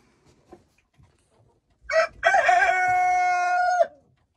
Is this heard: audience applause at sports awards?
no